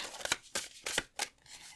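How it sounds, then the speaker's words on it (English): Four quick papery riffles of a deck of oracle cards being shuffled by hand, short crisp bursts spaced roughly a third of a second apart, close and fairly quiet with no talking. "We're going to shuffle one more time."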